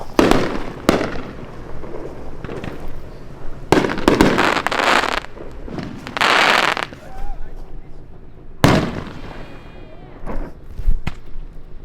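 Fireworks explode at an evening tailgate, with several sharp bangs and crackling bursts coming in uneven clusters, some close and loud, while people talk in between.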